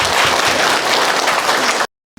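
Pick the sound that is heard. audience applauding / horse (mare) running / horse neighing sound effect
audience applauding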